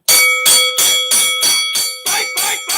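A fight bell rings in about eight rapid, evenly spaced metallic dings, each bright, loud and close, with a short ringing decay before the next strike.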